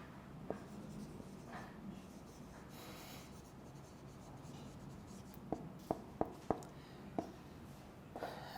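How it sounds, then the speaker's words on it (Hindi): Marker or chalk strokes on a classroom board during an English lecture, a soft rubbing scratch with a few sharp taps and short strokes clustered near the end, fairly faint over room noise. "मैं लिख भी देता हूँ इधर"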